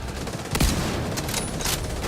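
Gunfire in The Division 2 during a hardcore mission at a stranded oil tanker: a rapid burst of shots with a sharp crack midway, loud and close against steady game ambience.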